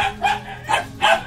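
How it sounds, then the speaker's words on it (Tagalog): Dogs bark at a pet market selling puppies, including chihuahuas, with three sharp barks evenly spaced over a second, loud and close, and no talk. "Meron po tayong mga aso."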